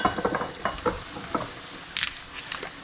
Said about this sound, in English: So we're just really, really light sauteing that garlic.